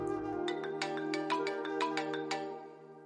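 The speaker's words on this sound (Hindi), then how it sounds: "नफीसा का फोन" A mobile phone ringtone plays a bright, repeating electronic melody of plinking notes over a steady tone, fairly quiet and alone for about three seconds before fading.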